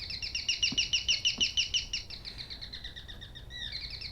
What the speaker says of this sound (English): in Taiwan, it's very common for the sound of a gecko to be used as a doorbell.